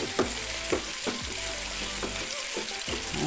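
Ginger, garlic and green chilli frying in a pan for masala dosa curry, a continuous close sizzle with a few soft stirring scrapes at a regular pace.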